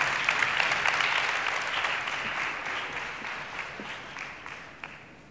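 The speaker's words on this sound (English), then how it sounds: "And give them a big hand of applause." Audience applauding at a conference, a dense steady wash of clapping from a large crowd that slowly fades over several seconds, with no talk over it.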